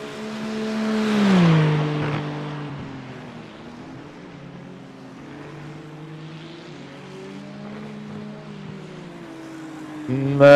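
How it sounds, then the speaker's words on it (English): A race car engine in the iRacing sim drones and shifts pitch as it revs and eases off, loud at first, then steadier, with a sharp rise in revs at the end. "Can hear the engine."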